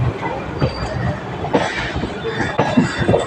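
A train pulls into Sealdah South station, wheels clattering over rail joints with rhythmic clacks and brief squeals, loud and close, the carriage noise busy and uneven.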